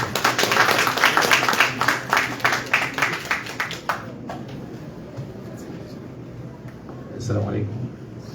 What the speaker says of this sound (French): Je vous demande d'applaudir notre...